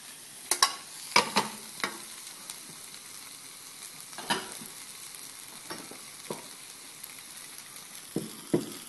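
Spinach cooking in a pan, a soft, quiet sizzle under a string of clacks and scrapes from stirring, most clustered near the start and then spaced out, all close up with no speech.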